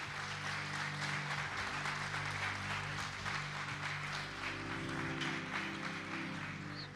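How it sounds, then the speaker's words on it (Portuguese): Congregation applause at a church sermon, steady, dense clapping from a large crowd lasting throughout, moderately loud with a low sustained hum beneath. "Você pode aplaudir o Senhor por isso?"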